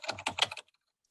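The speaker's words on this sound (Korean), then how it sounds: "첫 번째는 타이핑 인트로예요." Rapid keyboard typing used as a sound effect for a typing-style text intro, a dense burst of crisp key clicks lasting about half a second, then silence.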